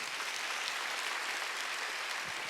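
A church congregation at a Wednesday worship service claps together in a dense, continuous burst of applause that fills the room at even strength from start to finish.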